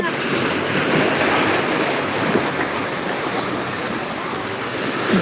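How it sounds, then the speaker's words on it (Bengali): Sea waves break against rocks on a beach in Chattogram, a loud, continuous rushing wash of surf with no pauses and no voices. "ঢেউয়ের ধাক্কা এসে পাথরের মাঝে লাগছে"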